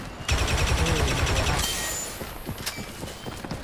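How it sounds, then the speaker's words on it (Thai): Rapid automatic weapon fire in Star Wars Battlefront 2, a dense burst of fast repeated shots for about a second and a half that then gives way to scattered impacts and quieter battle noise. "กดคลิกขวาค้างนี่เป็นยิงรัว แรงมากนะ"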